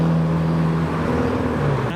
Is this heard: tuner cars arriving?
yes